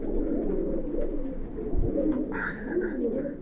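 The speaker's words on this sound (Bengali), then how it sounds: "এগুলো ডাইরেক্ট ইম্পোর্ট করা কবুতর" Large imported Kaldom pigeons coo nearby at a farm, a continuous low, throaty warble with overlapping calls.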